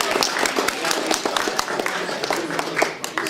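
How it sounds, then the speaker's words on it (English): An audience at a competition event claps for the participants, a dense, close burst of applause with individual claps standing out, mixed with some voices and crowd noise throughout. "let's give a round of applause for everybody who participated"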